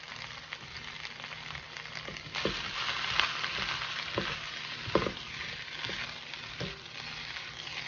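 Shrimp and chicken stir fry sizzling in a hot pan, a steady close crackle of frying with occasional clicks and scrapes of stirring, no talk.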